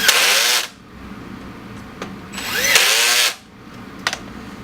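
An electric drill on its lowest setting drives screws into an extruder assembly in two whirring bursts, each under a second or so, with quiet clicks of the workpiece between them, loud and close.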